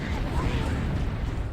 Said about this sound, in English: Freaking explosions ain't no joke.